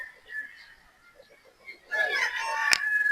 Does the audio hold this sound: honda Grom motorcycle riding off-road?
no